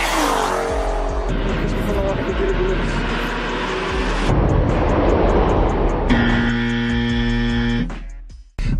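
A BMW M340i xDrive slides around with loud, sustained tire squeal and engine noise, the squeal changing pitch as the car drifts close by.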